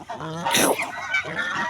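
A flock of domestic ducks climbs out of a village wetland at dusk, honking loudly and close by in a dense, overlapping chorus of calls.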